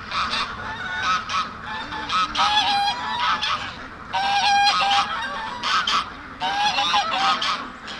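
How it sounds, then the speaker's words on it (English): A flock of geese honking loudly by a lake, nasal calls arriving in repeated overlapping bursts with brief pauses between, close and dominant with no talking. "The geese are really getting loud."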